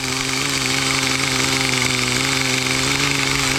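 A nitro engine on a Kyosho Blizzard tracked RC vehicle runs at a steady, buzzing rattle close by, its tone holding even throughout with no talk over it.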